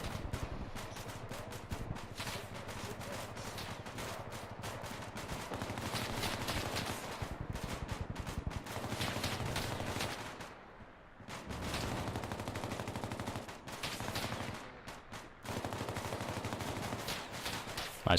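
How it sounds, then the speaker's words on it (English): Support gunfire from troops behind trees in the Bellum military shooter game: sustained, dense rapid bursts of automatic rifle and machine-gun fire, loud and continuous, with one brief lull before firing resumes. "So those guys over there behind the trees are support firing"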